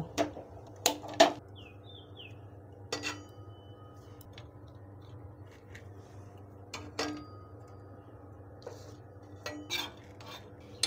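Whole cloves, green and black cardamom, cinnamon, mace, bay leaf and nutmeg dry-heated in a pan, with scattered light clinks and scrapes of a utensil against the metal over a quiet background and no talk.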